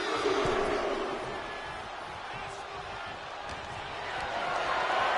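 Wrestling crowd in the WWE 2K25 video game at a WCW World War 3 event, a steady arena roar that swells slightly at the start and end, with faint chatter blended in.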